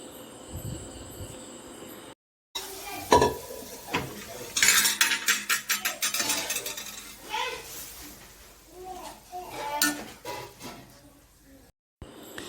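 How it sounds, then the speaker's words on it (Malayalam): Boiled white chickpeas tumble into a curry pan, a close rattle of scraping and clattering pieces with bursts of wet clinks against the metal, pausing briefly near the start and end, with light voice in the background. "ഇനി നമുക്ക് നമ്മുടെ വേവിച്ച് വെച്ചിരിക്കുന്ന കടല നമുക്കിതിലേക്ക് ഒഴിച്ചു കൊടുക്കാം."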